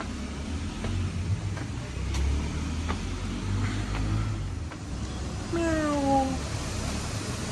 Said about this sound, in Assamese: মেকুৰী এনে নকয় বাঘৰ মাহীয়েক বুলি